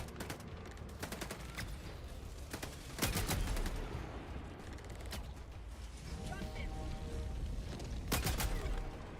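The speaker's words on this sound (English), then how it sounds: "It's a burst fire rifle, but you just gotta charge it for a second." Burst-fire rifle shots ring out in a video game, with sharp repeated cracks in short clusters and heavier booms mixed into busy in-game noise, while players talk over the action.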